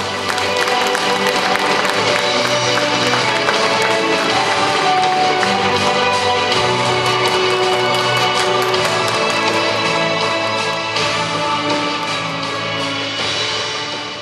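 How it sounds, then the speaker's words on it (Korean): A crowd of party members at a political party convention in Daegu applauds ahead of a candidate's speech, a loud, sustained wash of clapping lasting over ten seconds, with music playing underneath. "많은 박수 부탁드립니다"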